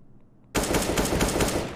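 After a brief quiet moment, loud rapid automatic gunfire from a video game bursts in and continues as a dense, rattling stream of shots up close.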